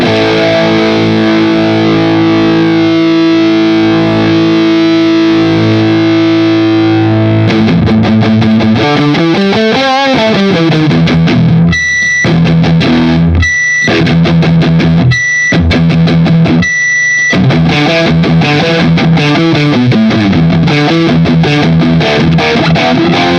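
Electric guitar played through the high-gain channel of a Zoom 505 Mark II pedal, loud and heavily distorted, moving from sustained chords into choppy palm-muted riffs with brief stops, and no talking.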